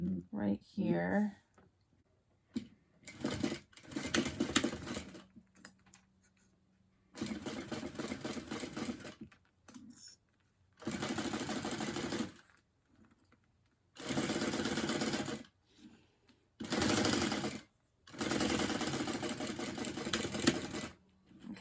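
Sewing machine top stitching a bag runs in repeated bursts of steady whirring, each a second or two long, separated by pauses, close and fairly loud, with a person talking briefly between runs.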